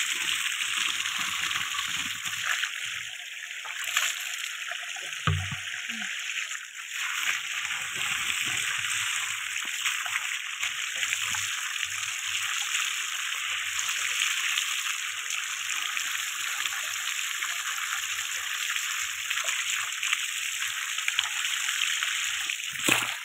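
Water runs steadily from a tap while a clay water pot brought from the farm is rinsed, a continuous close splashing rush with brief dips and clunks of handling around the middle, and no talk.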